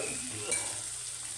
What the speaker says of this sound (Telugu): మిర్చి వేసేసిన ఒకసారి కలిగి పెడుతున్నాను.